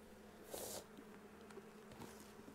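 Honey bees in a strong hive colony hum in a steady, close buzz, briefly swelling louder for a moment near the start, with no voices.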